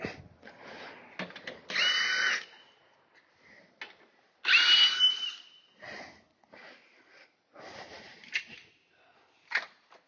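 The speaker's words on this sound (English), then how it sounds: "battery ratchet or some kind of little battery impact for things you can get to" A small cordless battery impact driver on a 2019 Ford Escape rattles out 10 mm bolts in several short bursts of a second or so, separated by quiet gaps and faint handling noises, moderately loud and close.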